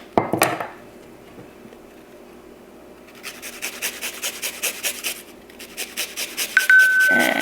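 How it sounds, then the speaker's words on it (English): Fresh garlic grated on a microplane in a home kitchen: about a dozen quick, evenly spaced rasping strokes, close and fairly loud, after a quieter stretch with a brief clatter at the start. "Just go ahead and microplane it."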